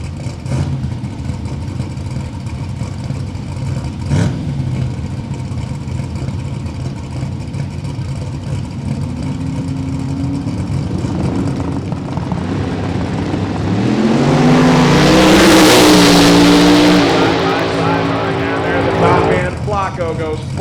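Supercharged and turbocharged drag race cars stage at a drag strip, engines rumbling at idle before one revs up into a loud rising roar, while an announcer talks over the noise.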